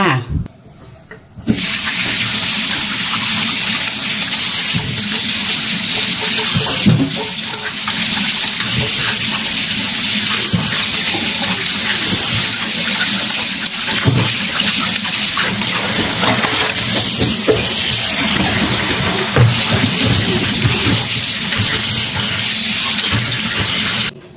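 Tap water runs hard and steady over pineapple being washed in a kitchen sink, a loud continuous gushing that starts after a brief quiet moment and carries on throughout with light handling splashes.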